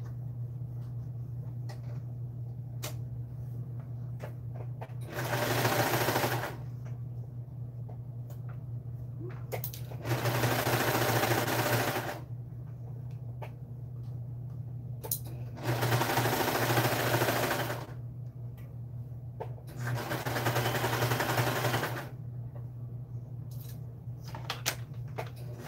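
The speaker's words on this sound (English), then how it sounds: "now we're just gonna do another serge along that" Serger sewing machine stitching a seam on pajama pants, running in four separate bursts of steady, dense whirring, each a second or two long, with quiet pauses between them over a constant low mains hum.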